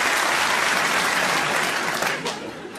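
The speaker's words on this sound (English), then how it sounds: "Give a round of applause for Ian" A theatre audience at a comedy show applauds loudly in a dense, continuous burst that thins out toward the end, with no voices over it.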